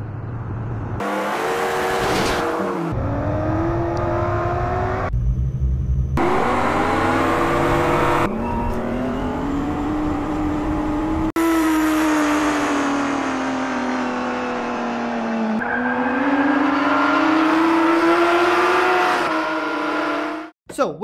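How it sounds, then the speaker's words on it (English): A small animated race car revs and accelerates through a racing sequence, the engine tone rising and falling in continuous loud sweeps with brief cuts between shots, backed by other busy sound. "It's a little car moving, car racing sequence."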